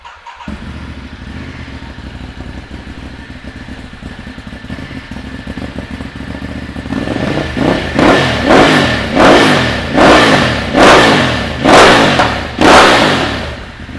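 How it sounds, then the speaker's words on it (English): A 2018 Ducati Hypermotard 939 SP engine with a full exhaust system starts and idles with a rough, low rumble, then is revved repeatedly in a series of loud, rhythmic throttle blips. "let's get that full system fired up"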